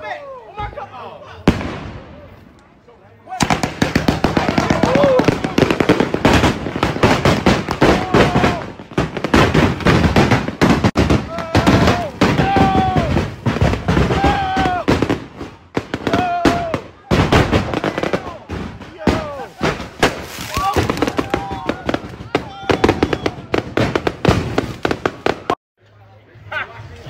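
Fourth of July fireworks and firecrackers pop and bang in rapid, irregular bursts, close and loud, with whistling rockets and excited voices shouting between the blasts.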